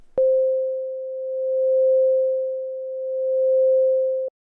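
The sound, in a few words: sine wave tone with volume modulated by another sine wave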